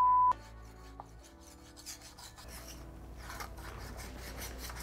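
A hand saw rasps back and forth through a block of clear ice, a steady mid-loud grinding scrape that starts after a sharp tap and continues without talk.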